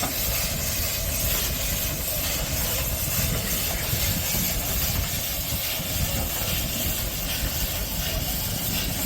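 A 99-year-old steam engine building pressure gives a steady, loud hiss with a low rumbling underlayer, continuous and close throughout.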